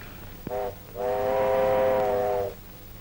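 A steam locomotive whistle blows as a train arrives, a brief short toot followed by a long steady blast of about one and a half seconds, loud and clear with no talk.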